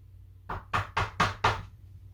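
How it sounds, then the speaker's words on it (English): Five quick, evenly spaced knocks land on a door, sharp and fairly close. They sound over a faint low background hum, with no speech during the knocking. "Someone at the door?"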